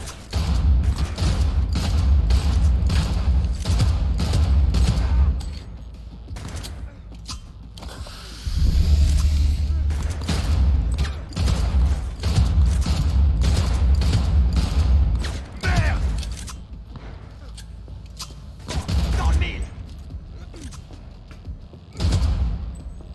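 Rapid gunfire in the video game Cyberpunk 2077, dense bursts of loud shots with short pauses and a few quieter gaps, all close and heavy throughout.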